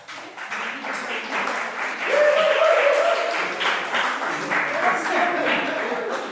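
A crowd at an open-mic comedy showcase in Cork applauds steadily for several seconds, the clapping swelling midway and staying loud, with some voices mixed in.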